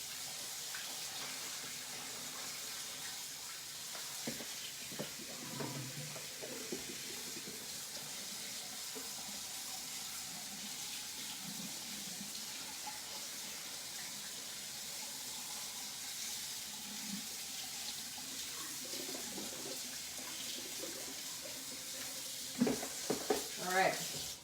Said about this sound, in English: I just throw them in the colander and then just rinse them out until I kind of see the water running clear through them